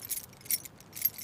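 A bunch of keys jangles in a few quick metallic bursts as they are handed over, close and bright, with short gaps between shakes and nothing else heard.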